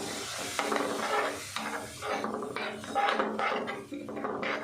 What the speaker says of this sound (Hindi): अच्छे से मसाला भून लेते हैं।